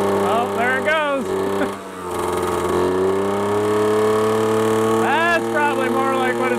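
A Honda Gyro scooter's small engine runs steadily close by after its oil is cleared, with a few sharp revs rising and falling over the idle; people talk over it.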